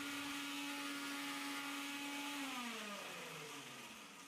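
A mixer grinder grinds rava laddu ingredients, whirring steadily with a loud motor hum, then its pitch drops as it winds down near the end.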